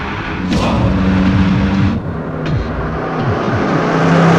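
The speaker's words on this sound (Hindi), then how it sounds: "पीछे देखो भाई, लगता है वो गाड़ी अपने पीछे ही आ रही है।" Car engine humming steadily at close range while driving, a continuous motor drone with slight shifts in pitch and a couple of brief rushes, no talking.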